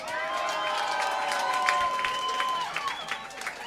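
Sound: audience applause at a live concert

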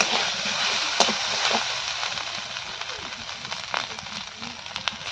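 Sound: ginger garlic paste frying in a pan

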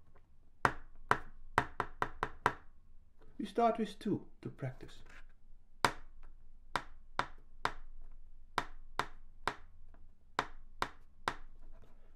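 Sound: tapping a rhythm

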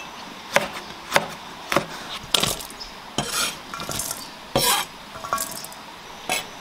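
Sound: knife chopping ginger and garlic slices

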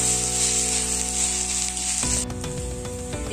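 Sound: sautéing spices for okra roast in a pan

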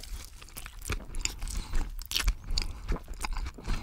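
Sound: person chewing food with mouth open, ASMR eating

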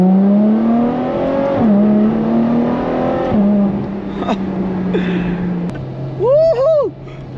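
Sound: Ferrari F12 TDF accelerating hard on a straight

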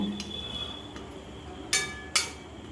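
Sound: stirring chicken kali mirch in a pan

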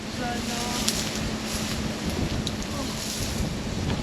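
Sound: wind blowing

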